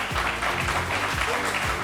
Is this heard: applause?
yes